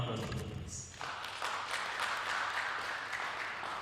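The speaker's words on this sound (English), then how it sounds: "A round of applause for them, please." An audience claps steadily at a reality-show grand finale, a dense, even patter of applause rising after a brief lull and continuing at moderate distance.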